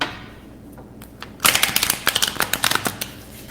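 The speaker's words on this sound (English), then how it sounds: "I will pull a few cards" Cards from a tarot or oracle deck being pulled and shuffled, a quick run of crisp riffling snaps and flicks close by after a quiet start, with no talking.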